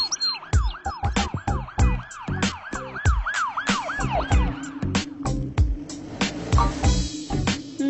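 A toy ambulance siren wails in rapid, repeating up-and-down sweeps, loud and close, mixed with clicks and knocks from toy vehicles being handled.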